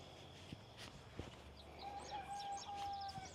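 A faint, human-imitated rooster crow rises briefly amid soft outdoor ranch ambience, with a few sharp knocks before it; the call sounds weak and thin.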